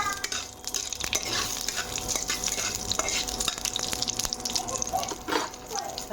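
Whole spices (cinnamon, cardamom, peppercorn and clove) fry in oil for a dried-pea chhola, with a steady crackling sizzle and frequent scraping stirs and clinks of a utensil against the pan.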